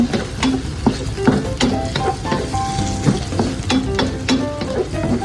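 Garlic and white onion sautéing in a hot pan, a dense crackling sizzle up close with repeated sharp spatula scrapes and clinks against the metal, no voices.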